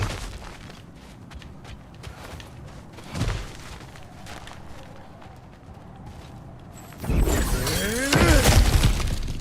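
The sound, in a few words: smashing through objects in God of War Ragnarok video game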